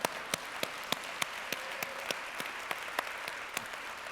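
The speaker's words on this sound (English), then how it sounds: "I think I deserve some applause." Audience applause at a leadership conversation event with Jack Ma, a steady wash of clapping with sharp individual claps standing out at a regular beat, alone and without talk.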